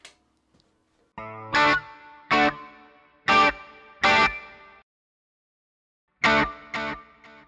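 Electric guitar through an Axe-Fx multi-effects unit with delay switched on: short bursts of strummed chords ring out in separated groups, each one trailing off, with no one talking.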